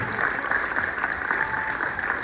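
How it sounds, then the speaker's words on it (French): At a comic-book prize ceremony, the audience breaks into warm, even applause for a shy young winner, a dense wash of clapping lasting a couple of seconds with some voices mixed in. "on l'applaudit bien fort"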